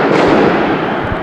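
Fireworks rockets bursting at a football match produce a loud, dense, continuous crackling roar with no clear gaps between bursts and no voices.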